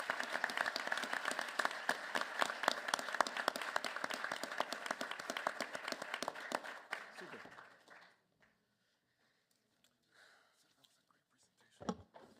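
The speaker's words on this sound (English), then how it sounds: "please give me give me a big applause to the panel" An audience applauds a panel at an innovation day event, sustained dense clapping for about eight seconds that then fades out, followed by near silence and a few faint scattered sounds.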